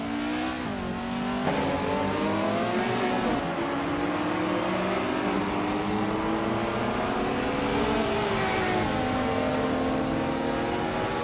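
A 1985 Peugeot 205 Rally engine in a racing video game revs continuously, its pitch sweeping up and down through gear changes over a steady, loud drone.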